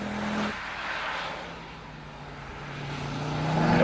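A Ford Focus RS drives hard through twisty corners, its engine note rising and falling with a steady tonal drone and a faint tyre hiss, the sound swelling louder toward the end as the car pulls out of a bend.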